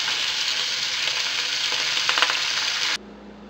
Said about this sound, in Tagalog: Dapat naka-medium heat lang tayo sa pag-fry para maiwasan natin itong masunog.